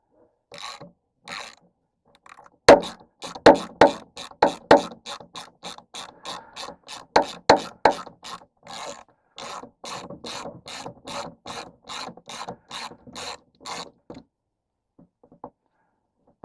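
A hand ratchet tightens a bolt while a boat is being readied, rapid clicking bursts in a steady rhythm of repeated strokes, close and crisp, stopping and starting before falling quiet.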